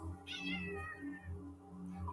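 A house cat gives a single drawn-out meow, clear and close, followed by faint low murmuring in the background.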